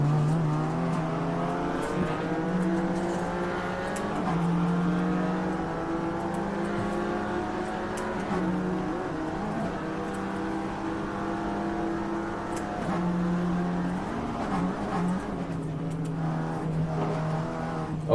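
A TCR touring race car at full pace on the Nordschleife, its engine droning loud and steady with rising and falling revs through gear changes, heard close from inside the cockpit with no talk.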